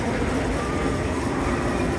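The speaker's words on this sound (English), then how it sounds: "This is the original Amtrak area before they opened up Moynihan train hall." Penn Station in New York, in the original Amtrak concourse, gives off a dense, steady rumble of train and crowd noise, loud and continuous, with indistinct voices blended into the wash.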